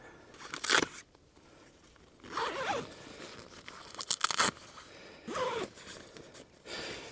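A one-person tent's door zipper is pulled open in several separate bursts of rasping, with short quiet pauses between them, close by and fairly soft.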